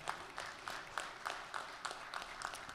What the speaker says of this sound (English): So y'all give our pages a big round of applause.